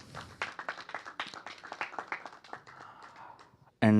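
Audience clapping at an award felicitation event, a scattered run of claps at moderate distance that thins out, then a sudden loud burst at the very end.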